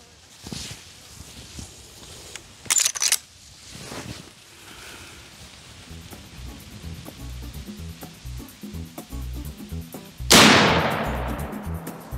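A .45-70 rifle fitted with a muzzle brake fires once at a pumpkin, a sharp, loud blast with a bright crack and a fading tail, after quieter handling clicks and shuffling.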